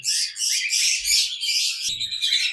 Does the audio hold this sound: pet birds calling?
yes